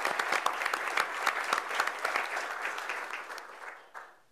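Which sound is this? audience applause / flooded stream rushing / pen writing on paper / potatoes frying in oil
audience applause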